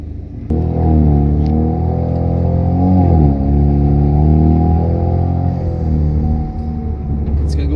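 A 2017 Chevrolet Camaro with a turbocharged four-cylinder engine pulls away on the street, a loud, close, steady engine rumble with shifting tones as it moves, and a voice speaks briefly over it.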